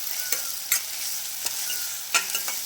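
Mushroom thokku ingredients sauté in a pan with a continuous soft sizzle, broken by a few sharp scraping stirs of a spoon against the pan, close and alone with no talking.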